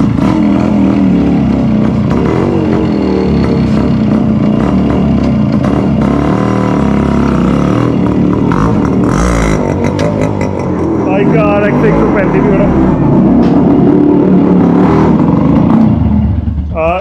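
A Yamaha RX100 two-stroke motorcycle idles and revs nearby, a loud steady engine drone that swells and falls, with people talking over it.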